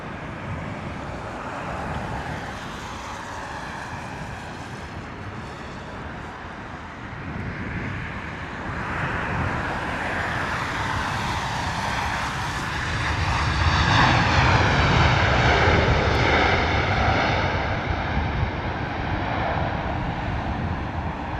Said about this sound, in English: Next in the door is our A321 Neo.